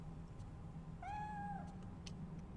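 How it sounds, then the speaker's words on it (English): A single drawn-out cat meow from the Fatal Frame 3 video game, clear and alone against a quiet ambient hum. "A cat, I think it's stuck."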